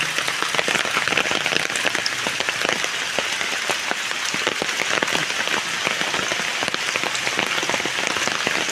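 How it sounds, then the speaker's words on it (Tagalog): Steady rain falls continuously in a muddy, heavily wooded area during a long wet spell, with dense patter of drops on surfaces throughout and no talking. "Dire-diretso po ulan."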